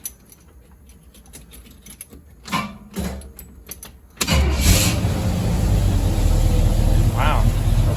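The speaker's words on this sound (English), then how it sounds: "this car just starts so nice" A Pontiac engine with a freshly replaced water pump cranks with a few uneven bursts, then catches and settles into a steady, loud, close idle that runs to the end; faint voices are heard under the cranking.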